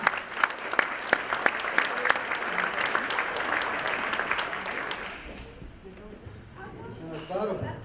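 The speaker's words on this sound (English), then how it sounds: "please let's give them a round of applause and welcome them" An audience at a National Welcome Week and Hispanic Heritage Month event in Columbus, Ohio applauds newcomers with a burst of steady clapping that thins and fades after about five seconds, leaving quieter room noise and faint voices.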